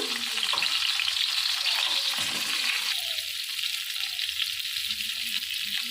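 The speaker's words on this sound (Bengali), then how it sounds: "পটলগুলো ওই তেলেই আমি ভেজে নেব" Pointed gourd (potol) frying in hot oil, giving a loud continuous close sizzle with occasional stirring scrapes and no talk.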